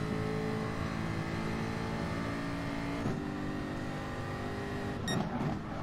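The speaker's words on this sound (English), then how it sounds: "Whole gaggle of cars in front of me here" Race car engines drone steadily at Monza in a racing video game, a packed field of cars with a shift in engine pitch midway and a brief sharp clatter near the end.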